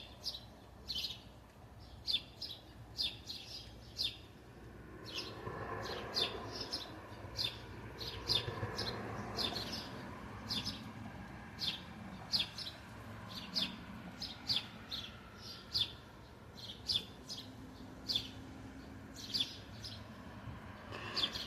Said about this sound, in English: Those are the little sparrows.